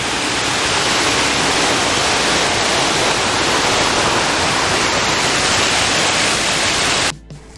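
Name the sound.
cascade waterfall on the Appalachian Trail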